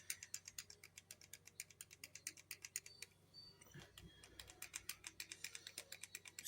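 A product dispenser bottle pumped over and over, a rapid run of faint clicky ratcheting strokes that pauses briefly partway through and then resumes.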